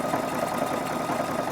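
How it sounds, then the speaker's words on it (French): A sewing machine stitching a seam on trouser pockets, one steady, even motor whir with a rapid needle chatter, close and continuous with no voices. "Ensuite, on va passer comme ça, coudre à 1 cm et finir sur toute la longueur."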